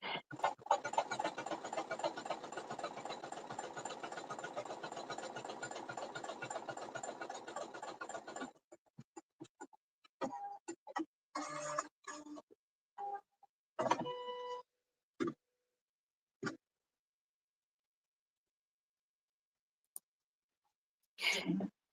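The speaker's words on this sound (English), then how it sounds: "when you cut a project in Cricut" A Cricut cutting machine works through a craft project, giving a fast, steady mechanical whirring and ticking that runs alone for several seconds, then breaks into short scattered bursts of carriage movement separated by silence.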